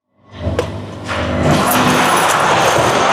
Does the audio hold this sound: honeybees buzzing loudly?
no